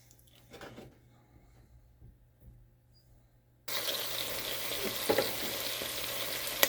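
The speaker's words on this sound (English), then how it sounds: "cook that until the onions are soft and the meat begins to" Onions and sausage meat frying in a pot over medium-high heat, a quiet start giving way to a loud, steady sizzle with occasional spattering pops, close by.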